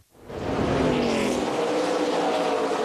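K&N Pro Series stock cars racing at Iowa Speedway in the 2010 Iowa 200 swell quickly into a loud, sustained, close engine roar that holds steady to the end, with no talking.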